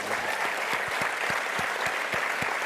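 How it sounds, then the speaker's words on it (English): An audience claps for the coaches, dense continuous applause from a crowd with distinct individual claps running throughout a short burst. "We should clap."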